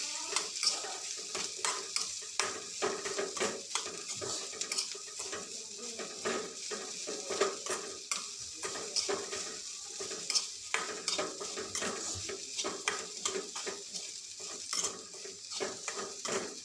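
Grated coconut and shallots sauté in a pan under repeated scraping and stirring strokes from a utensil, with light clinks over a continuous gentle sizzle at moderate, close range.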